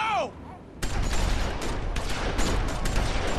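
Gunfire in The Walking Dead video game: a short voice gives way to a sudden, sustained burst of rapid, loud shots that keeps crackling for about two and a half seconds.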